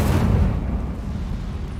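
A fire spell, Incendio, cast in the video game Hogwarts Legacy, bursting with a loud whooshing blast at the start and then rumbling away over the next second or two.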